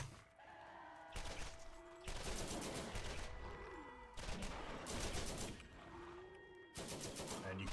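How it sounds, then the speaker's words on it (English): Automated turret in Borderlands hammering enemies with rapid bursts of gunfire, dense crackling volleys broken by short gaps, loud and close, with scattered impact and tonal game effects. "you can see how effective it is to stand behind the turret, let it hit the enemies"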